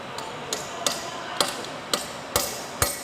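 A hammer strikes metal while new turbine blades are being replaced, seven sharp, irregularly spaced blows ringing out close by, with the last two the loudest, and no talk.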